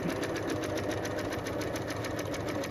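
A sewing machine runs steadily while stitching the side seam of an upcycled denim jacket, a continuous close whirring hum with no pauses and no talk.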